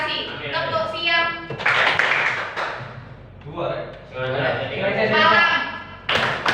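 A high school class plays a call-and-response clapping game, voices chanting words in unison between short bursts of claps and thumps, the sound loud and close with a teacher's voice leading.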